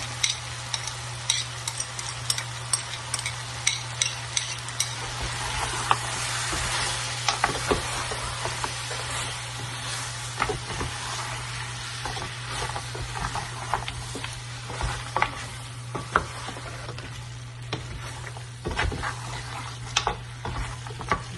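Beef karahi with yogurt frying on high heat, a continuous soft sizzle broken by frequent sharp spatter pops and occasional stirring scrapes, steady and close with no talking.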